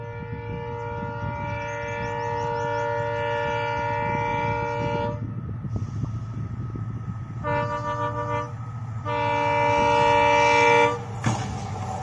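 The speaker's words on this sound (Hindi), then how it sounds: "ये सुबह वाली इंटरसिटी ट्रेन है।" A morning intercity train passes close with a loud rumble as its multi-tone horn blares in long sustained blasts, pauses, and sounds again.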